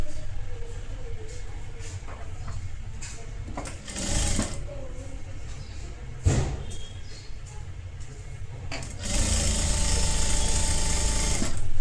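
A sewing machine stitches the folded half-inch hem on a blouse sleeve, running steadily and close with a few short pauses and handling clicks, then a louder continuous burst near the end.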